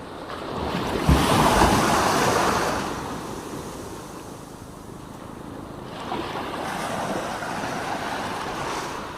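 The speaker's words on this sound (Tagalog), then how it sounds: "Ayan na, papa may alon." Ocean waves rolling in where a fishing boat is launched from the shore at dusk, a broad rushing surge that swells, fades and builds again, mixed with gusty wind buffeting the microphone and no talk.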